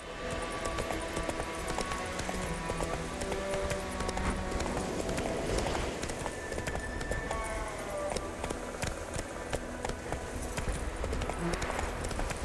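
Horse hooves gallop in The Witcher 3: Wild Hunt, a steady rapid clip-clop running throughout over game ambience, with a voice speaking briefly.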